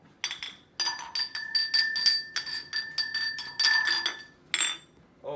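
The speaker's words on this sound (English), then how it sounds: "any time in a lab when there's broken glass, you must clean it up immediately" Glass in a chemistry lab clinks and tinkles in a quick series of close, bright, ringing hits that go on for several seconds with short pauses.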